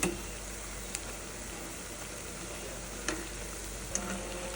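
Pui shak (Malabar spinach) pakoras fry in hot oil with a steady, soft sizzle, broken by a few faint ticks and clinks.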